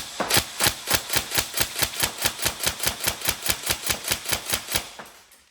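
A Tokyo Marui MK18 NGRS airsoft gun fires in single shots, about twenty loud, sharp cracks in a fast, even rhythm, close by and without talk, before trailing off.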